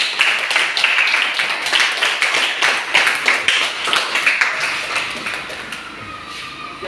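Classroom audience clapping, a dense patter of many hands that holds steady for several seconds before thinning out and fading toward the end.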